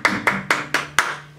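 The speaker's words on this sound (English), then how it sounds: "Everybody clap your hands" Five evenly spaced, sharp hand claps ring out in a steady rhythm, loud and close, with a faint musical drone beneath, as a crowd at a singing cover performance claps along.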